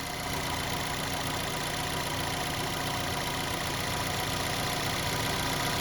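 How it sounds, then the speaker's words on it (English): A 2015 Buick Verano with an Ecotec engine and a high-pressure fuel pump idles with lifter noise, a steady close mechanical drone with fine ticking throughout. "It's lifter noise for you newbies."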